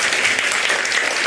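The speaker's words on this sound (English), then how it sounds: "So a round of applause for Ajahn, please, for making that happen." Steady, dense applause from a crowd, loud and continuous throughout with no talking over it.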